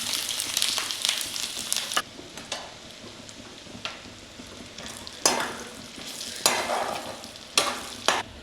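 Chopped ginger frying in hot oil with mustard and fenugreek seeds for beef pickle, a bright continuous sizzle broken by several loud stirring scrapes and bursts, close and clear with no voices.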